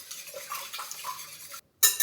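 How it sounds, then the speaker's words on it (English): Five large eggs are whisked in a bowl, a quick run of light clinking and swishing strokes close by that stops briefly and then resumes with a sharper clatter. "So I've got my 5 large eggs. I'm just going to whisk them around."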